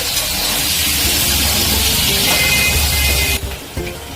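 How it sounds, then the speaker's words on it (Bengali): Sweet potato pieces frying in a wok of oil for a Bengali sukto, giving a loud, steady broadband sizzle that runs almost throughout and drops off sharply near the end. "এবার কড়াই আমি রাঙালুগুলোকে দিয়ে আবার হালকা করে ভেজে নেব।"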